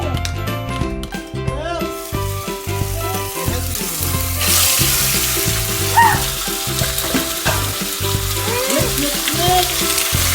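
Chicken pieces sizzle and fry in a hot pan for chopsuey, a steady hiss with clinks and stirring scrapes throughout, growing louder and denser midway.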